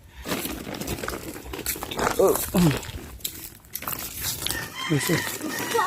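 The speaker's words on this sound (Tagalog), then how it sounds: "Yan ang mga manok nila dito guys." Roosters crow and chickens cluck close by among farm fowl, with someone talking over them and a dog audible, several crows rising in overlapping bursts.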